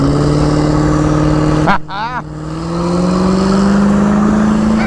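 A car engine idles loudly nearby, then revs up and settles into a rising steady drone after a brief dip, with a short word spoken over it.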